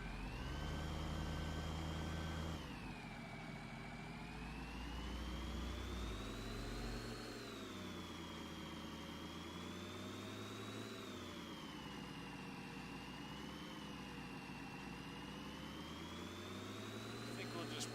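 A truck engine in the Farming Simulator game idles as a steady, continuous drone with a high whine on top, shifting slightly in pitch, with one brief change in tone near the start.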